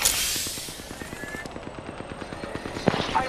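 Rapid automatic gunfire in the video game Apex Legends, a steady stream of evenly spaced shots that is loud and close, with a fainter voice under it and a brief sharper clatter near the end.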